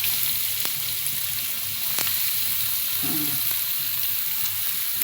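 Finely chopped onion frying in hot oil in a pan with green chillies, a steady close sizzling hiss with a few faint stirring clicks and no voices.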